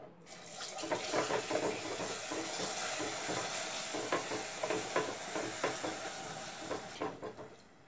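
Cornflour mixture being stirred into sugar syrup for Bahraini halwa in a pan, a steady wet bubbling churn with repeated soft spoon strokes close by, continuous throughout with no talking.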